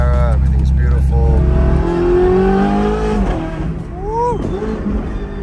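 A Ferrari 430 Scuderia with a Klein exhaust revs loudly up close, a deep engine drone that rises and falls, with people talking over it.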